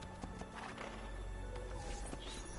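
Horse in a video game, faint hoof clip-clops and a whinny set against a dense background of game sound.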